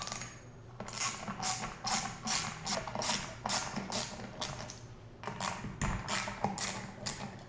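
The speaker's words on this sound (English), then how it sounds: "we're gonna need our 8mm socket. Let's get right into loosening these." An 8mm socket ratchet clicks in repeated bursts while loosening the bolts on a bicycle fork sprocket, close and alone with short pauses between strokes.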